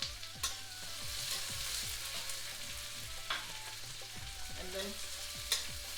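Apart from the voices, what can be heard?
ginger, garlic and green chilies frying in a pan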